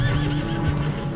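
A horse in the video game Red Dead Redemption 2 lets out a single clear, shaky neigh, close and fairly loud, over a low rumbling game background.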